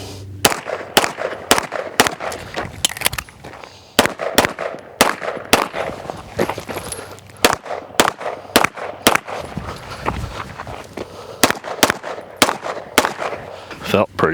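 Pistol shots from a CZ Shadow 2 carry optics pistol during movement drills, sharp, loud cracks fired in quick bursts of several rounds with short pauses between strings, echoing on an outdoor range.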